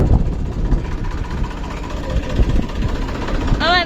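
A tractor with its trolley stuck, the diesel engine chugging and knocking in a steady low rumble close by, with a short whining note at the very end.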